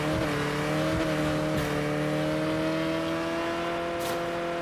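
Video game car engine hums at a steady pitch with faint revving and tire noise, droning on continuously at moderate volume with no talking.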